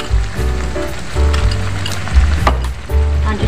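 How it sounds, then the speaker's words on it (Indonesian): Ground spice paste sizzles and fries in oil with lemongrass, turmeric leaf and lime leaf while it is stirred, a loud close crackle with low thuds from the pan and no talk. "Ini kita tumis sampai ini agak menyusut ya bumbunya, minyak, mengeluarkan minyak sobat."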